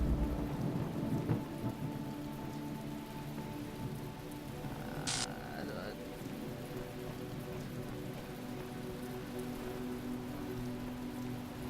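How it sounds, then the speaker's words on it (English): Hard rain patters steadily in the video game The Talos Principle while low thunder rumbles underneath, with a brief electronic chime partway through over the constant downpour. "It's raining super hard."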